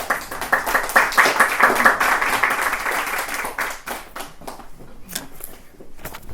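An evening book-talk audience applauds the guest author, with loud dense clapping at first that thins out and fades toward the end, leaving scattered claps.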